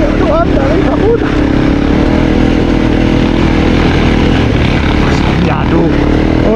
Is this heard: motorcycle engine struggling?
yes